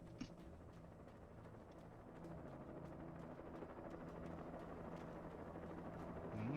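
A helicopter in the Xbox game Alan Wake drones with a steady mechanical whir and rotor chop that builds gradually louder, with faint clicks and patter over it and no voices.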